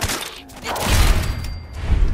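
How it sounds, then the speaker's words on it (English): Gunfire in the Fallout 4 survival-mode game, a dense run of shots and thumps building from about a second in, loud and close with no talk over it. "is there somebody over here that's shooting him?"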